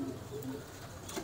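Soft, low pigeon cooing from a cross-bred breeder pair, a few short coos against faint background noise.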